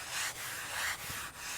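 A float scrapes across wet render to chamfer the front edge of a garden wall in three quick, close rasping strokes with brief pauses between them.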